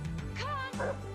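A dog on a movie soundtrack gives a few quick yips and barks with a whimpering, rising whine between them, loud and close, with a voice faintly underneath.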